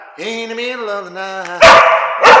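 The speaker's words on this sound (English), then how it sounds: "Don't bark. Stop it." A dog gives a drawn-out whining howl that breaks into two loud, sharp barks close by, with no talking in between.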